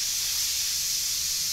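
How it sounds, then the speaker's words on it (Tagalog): Steam hissing steadily from a pressure cooker as its pressure is released, a loud, close, continuous rush with no talk. "Ganyan lang ang pagtatanggal ng pressure ha."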